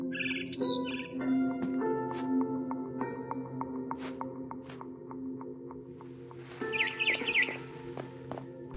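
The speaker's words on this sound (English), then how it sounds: "Then I heard chirping outside my window." A barn swallow chirps outside a window in the game What Remains of Edith Finch, with short bright chirps at the start and a busier burst near the end over soft ambient game music.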